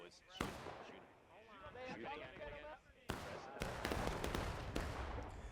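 Musket gunshots in a Civil War video game battle, sharp loud cracks that break out after an opening stretch of shouted speech, then several scattered shots close together with voices under them.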